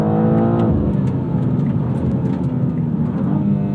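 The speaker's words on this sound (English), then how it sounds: "Fast, quick, hard-hitting shifts." A 2026 BMW M2 CS G87 downshifts to second gear, the loud close engine tone dropping abruptly into a deep rumbling, crackling drone that continues steadily, with no talking.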